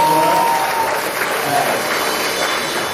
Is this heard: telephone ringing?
no